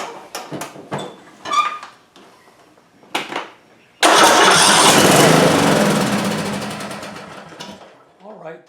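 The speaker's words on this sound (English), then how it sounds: "It will crank now and start." A Craftsman T100 lawn tractor engine cranks and fires, then runs loud and steady for about four seconds before winding down. Nearby voices speak before and after it runs.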